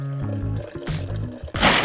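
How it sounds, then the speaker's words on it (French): Mint green tea poured into a cocktail shaker holding strawberries, sugar and orange blossom water; a close, short liquid pour with gurgling and dripping that ends in a brighter splashy burst, no voices. "je vais venir allonger de thé vert à la menthe."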